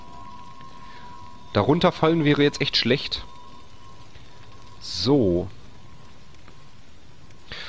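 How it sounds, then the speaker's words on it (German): Rain falling in The Evil Within: The Consequence on PS4, a steady faint patter that runs under the whole stretch while someone talks in short bursts. "Hier regnet es ja schon"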